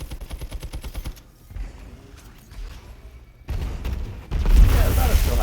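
Video game grenade explosions, in the form of a dense burst of rapid gunfire followed by muffled booms and a loud rumbling blast near the end, with a voice speaking over the action.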